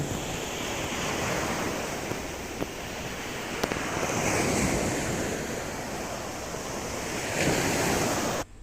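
Sea waves wash onto a quiet natural beach, a loud continuous surf roar with gentle swells, heard close up with wind buffeting the microphone and no voices.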